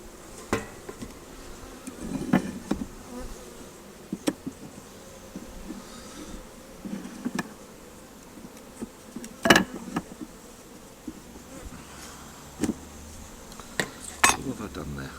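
Honey bees buzz steadily around an open hive during a summer inspection, a low continuous drone with scattered louder passes of individual bees near the ear, broken by a few sharp clicks and knocks of tools against wooden frames.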